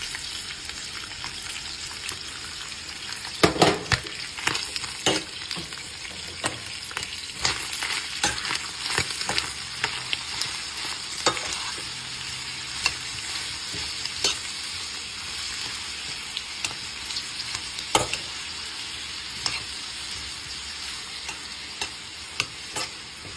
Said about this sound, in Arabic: بعد ما قطنا البصل والفلفل الأخضر نضيف الثوم أيضا